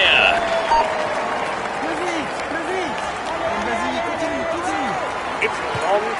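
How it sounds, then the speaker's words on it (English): A roadside crowd cheers and applauds a rider at the start of a Tour de France individual time trial, sustained clapping and shouts filling the scene, with a voice heard among them. "Come on, let's give him a cheer."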